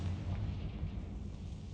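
A low, rumbling blast from a Harry Potter video game's Confringo spell, a soft sustained boom without sharp onset, fairly faint and alone with no speech.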